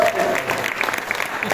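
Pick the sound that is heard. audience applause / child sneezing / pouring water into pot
audience applause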